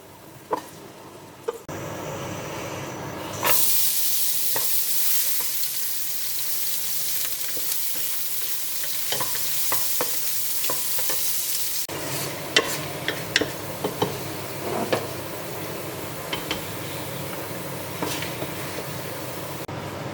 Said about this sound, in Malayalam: ഉണക്കമുന്തിരി ഫ്രൈ ചെയ്ത ശേഷം നമ്മൾ തേങ്ങാക്കൊത്തും അതുപോലെ തന്നെ ഒന്ന് ഫ്രൈ ചെയ്തെടുക്കുന്നു.